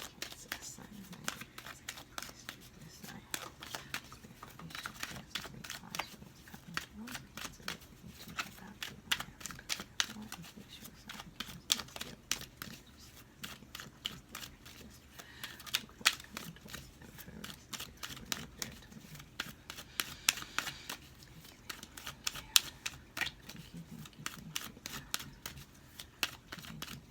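Tarot cards being shuffled at a reading, a faint, dense run of crisp clicking and flicking that continues for a long stretch with a low murmur in the background.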